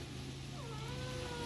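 A cat on a cold morning makes a faint, drawn-out meow that rises and falls, heard against steady low background noise with no talk.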